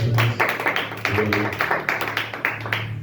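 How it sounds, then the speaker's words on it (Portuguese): A small church congregation at a Bible study gathering claps in uneven rhythmic bursts, fairly close, with voices speaking and singing underneath. "As palmas do nosso Senhor."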